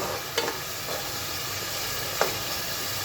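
Pigeon meat bhuna, cooked Pakistani style, fries in oil with a steady, close sizzle, while a couple of brief stirring scrapes stand out over the constant hiss.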